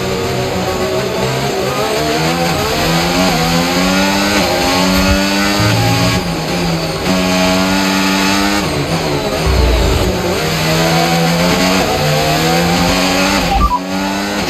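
Formula 1 cars racing at the Dutch Grand Prix in F1 25, a loud continuous high engine whine rising and falling with gear changes, close and alone with no voices.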